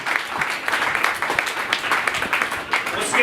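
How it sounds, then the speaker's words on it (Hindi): A church congregation applauds loudly and continuously during a sermon, a steady crowd of clapping hands with some voices mixed in. "आए जोरदार तालियां बजाएं।"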